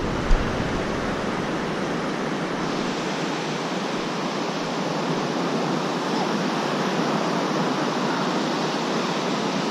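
Steady broadband wash of ocean surf on a Jacksonville, Florida beach, a continuous loud roar with no distinct breaks, heard alone without voices.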